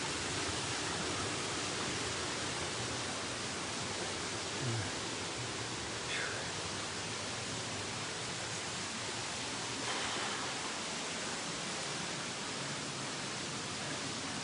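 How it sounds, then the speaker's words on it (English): A small waterfall in the En Gedi nature reserve gives a steady, broad hiss of rushing water from a distance, constant and fairly faint, with no voices. "So you can see the waterfall down here, one of the many smaller waterfalls."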